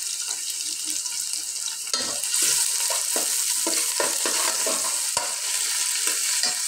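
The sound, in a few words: chopped onion frying and being stirred for Sylheti akhni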